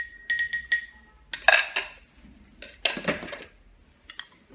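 A spoon clinks against a glass while stirring ginger into apple cider vinegar, several bright taps and scraping swirls in short bursts, close and clear.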